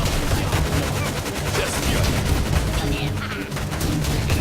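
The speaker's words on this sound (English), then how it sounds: "Okay, we got our artillery going." Artillery fire and gunfire in the strategy video game Tooth and Tail, a dense, continuous barrage of shots and booms with no breaks, loud and busy, with a voice briefly under it.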